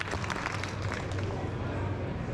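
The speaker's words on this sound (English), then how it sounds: "Clap that up." Crowd at an outdoor retail trade show panel claps in a dense, fairly quiet burst of many hands, sustained evenly throughout with a low hum underneath.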